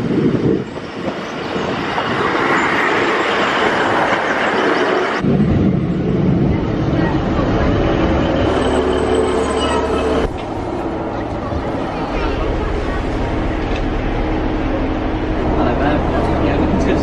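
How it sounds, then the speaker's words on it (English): A train rolls along a scenic railway line near St Ives, Cornwall, heard from on board as a steady rumbling drone with clacking and shifting wheel noise, carrying on continuously with faint voices in the background. "on probably the prettiest train line in the UK"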